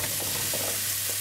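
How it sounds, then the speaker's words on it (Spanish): Apples tipped into a hot Teflon frying pan make a brief, steady sizzle with a few soft shuffling knocks as the pieces settle. "vamos a poner en la sartén todas las manzanas"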